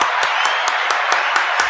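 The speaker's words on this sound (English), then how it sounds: "Where's my applause button?" A canned applause sound effect triggered from a button during a wrestling podcast plays as a short burst of rhythmic, evenly spaced claps, close and moderately loud.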